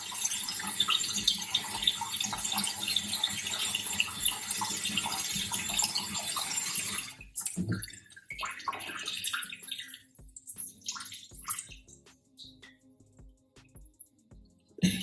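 A tap runs steadily into a filling bathtub for several seconds, then the flow cuts off, leaving scattered drips and small splashes of water.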